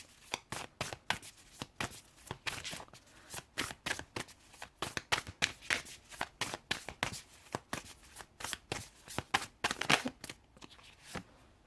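Tarot cards being shuffled over and over: a long run of crisp riffling and slapping bursts in quick irregular rhythm, close and clear, with no voice over them.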